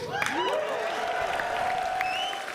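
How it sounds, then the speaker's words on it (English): Audience applause at a live convention panel, a steady wash of clapping from a crowd with some voices mixed in, sustained throughout before easing slightly at the end. "So thank you for clapping."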